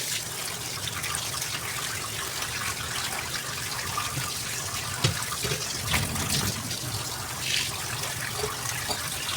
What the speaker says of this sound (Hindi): पहले मैं इसको ना धो के रख देती हूँ ताकि इसका पानी ना